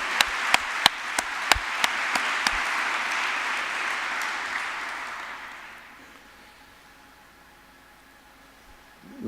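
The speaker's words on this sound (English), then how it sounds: "I would actually like to, for all of us, to give an applause to these people that are leading these chapters." Applause from a conference audience at the 8th ABSL Conference, mixed with a few sharp single claps at the start, swells, then fades away over several seconds into near silence.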